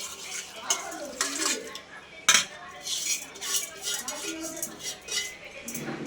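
Cooked rice mixed with tamarind pulp in a metal vessel, a spoon scraping and clinking against the pot in irregular close strokes with one sharp knock, while a voice talks quietly at times.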